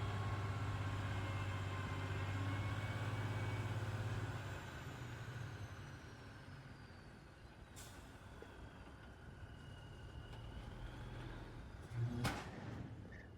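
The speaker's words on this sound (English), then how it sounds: "Big, massive trucks bringing in a bunch of stuff." Heavy dump trucks hauling fill dirt to a duplex building site, a deep idling engine rumble that drops back after a few seconds, then a sharp hiss and a loud clank near the end.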